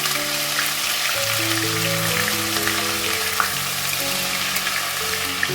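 Garlic ginger paste sizzles and crackles steadily in a hot pan, a dense continuous frying hiss with faint tonal hum underneath and no talking.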